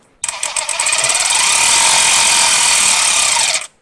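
An impact driver hammers on an alternator bolt of a 2012 Ford F150, a single loud burst of rapid rattling impacts lasting about three seconds, close up, starting and stopping abruptly.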